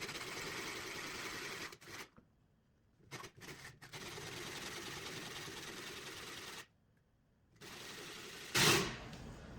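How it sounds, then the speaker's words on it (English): Coarse-grit sandpaper smooths the tabs on a homemade squareness-checking tool, producing quiet, rapid buzzing strokes in bursts separated by silent pauses, ending with a sharper scrape. "So to do that, I'm going to use 2 different grits of sandpaper. The rough one, obviously going first."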